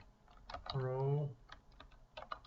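Keys clatter in quick, light bursts on a computer keyboard while C++ code is entered, close by and fairly soft, with a sustained hum and a voice talking in between.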